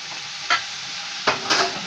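Spices for beef paye roast in a pan, a low steady sizzle broken by a few quick scraping stirs of the spoon, close and fairly loud with no talk.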